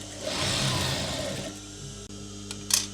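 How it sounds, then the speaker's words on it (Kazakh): Sewing machine stitching velour curtain fabric, a close steady motor whir and rapid needle chatter for about a second and a half, then quieter running with a couple of short clicks. "Міне линейкамен ұстап тігіп кете бересіздер."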